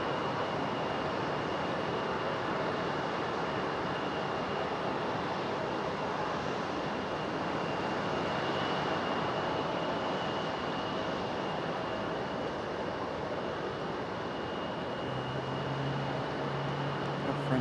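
Airliner jet engines at Raleigh-Durham International Airport: a steady, loud broadband roar with a constant high whine runs unbroken and fairly close throughout.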